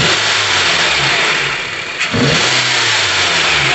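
2012 Honda CR-V engine running after a strange noise was repaired, a close steady mid-range engine hum with a brief dip and small rev around the middle, no talking.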